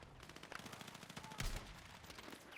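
Rapid automatic gunfire in a Battlefield 6 gunfight, bursts of fast repeating shots with a heavier blast midway, fairly quiet and continuous over the whole stretch.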